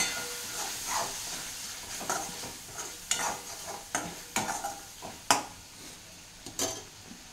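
Roasted sesame powder being stirred into a dish in a pan, a spoon scraping and clinking in irregular strokes over a soft sizzle, close and moderately loud with no talking.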